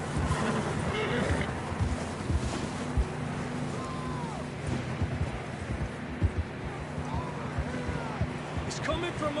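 Horses in Red Dead Redemption 2 clop along with steady hoofbeats and an occasional whinny, all under ongoing talking voices.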